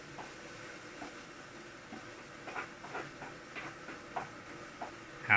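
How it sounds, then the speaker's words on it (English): Water in a kettle or pot nearly boiling, giving a continuous hissing roar with irregular ticking and popping bursts that grow busier toward the end. "Once it gets loud and then quiet down, then it's almost boiling."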